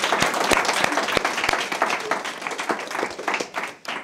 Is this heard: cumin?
no